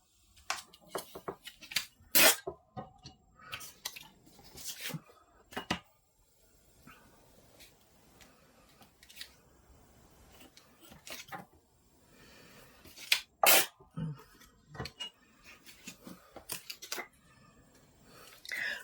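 Scissors snip paper in scattered bursts of crisp, close cuts with quiet pauses between, irregular in rhythm and fairly soft overall.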